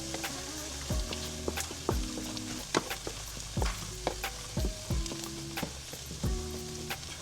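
Black beans and corn sizzle in a pan, a soft steady frying hiss broken by repeated scraping stirs and clinks of a utensil, with light music playing underneath.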